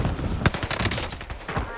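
Gunfire in a Call of Duty match with an Owen gun: rapid bursts of shots and sharp cracks across the whole stretch, fairly loud and dense, with a few louder booms near the start.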